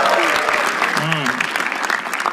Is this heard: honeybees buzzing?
no